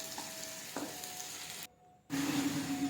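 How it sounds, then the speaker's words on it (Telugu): Onions and green chillies fry in oil in a pan for a curry, giving a steady close sizzle that drops out briefly before returning louder. "ఆనియన్స్ టూ మిర్చి టూ ఆనియన్స్ టూ మిర్చి కట్ చేసి వేసి ఫ్రై చేస్తున్నాం"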